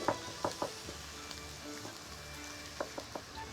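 Veal pieces fry in oil in a pan, sizzling steadily at moderate volume while a few sharp clinks and stirring knocks punctuate the sound, with no talk.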